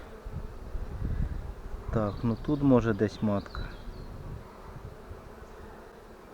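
A low, steady buzz of many honeybees close by on hive frames, with someone speaking briefly over it.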